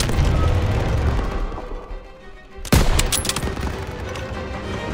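Rapid gunfire rattles through a World War II street battle in Call of Duty WWII, a sustained loud barrage with a sharp burst of shots and a blast near the middle, no talk over it.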